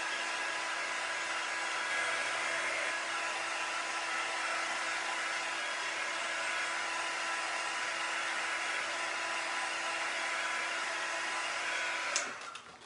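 A steady, even blowing whoosh of a small low-temperature heat tool used on a craft transfer runs without a break, loud and close, then cuts off abruptly near the end.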